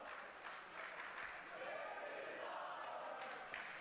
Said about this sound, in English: The crowd is chanting, "This is awesome."